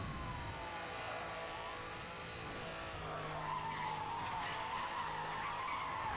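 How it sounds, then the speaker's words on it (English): Car tires screeching and skidding in the racing game Need for Speed Hot Pursuit Remastered, a long continuous squeal with engine roar underneath, loud and sustained throughout with no talk. "Tires screeching."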